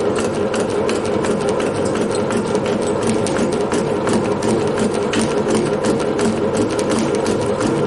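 A metal shaper machine cutting a gear blank runs with a continuous loud mechanical drone and a fast repetitive clatter of the cutting stroke, steady throughout with no voices.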